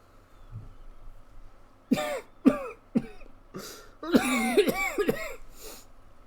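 A person voice-acting a scripted coughing fit: a quiet start, then a string of sharp, close coughs and throat-clearing bursts, several clustered together, loud and up-front with no other sound.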